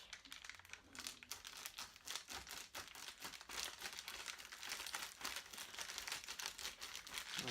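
Scissors crunching and snipping through packaging foam, a steady run of crinkly cutting noises, close and fairly quiet.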